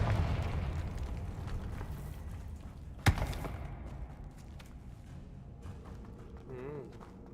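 Fiery Confringo spell blast in the video game Hogwarts Legacy, a sharp bright crack with a rumbling tail amid dense, continuous low combat rumble and effects.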